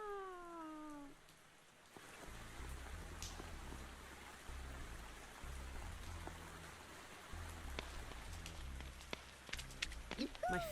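Video game rain patters densely on an umbrella parasol at a seaside scene, a soft continuous rain hiss with scattered sharper drip taps and a brief chirpy tone at the start.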